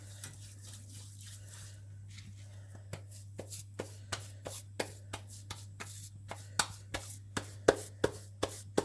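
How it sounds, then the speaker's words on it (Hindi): Buttered hands press and pat makki cornflour roti dough, giving soft, steady slapping and squishing taps that grow regular and quicker toward the end, heard close over a constant low hum. "हाथ से इसको बड़ा करते जाएं।"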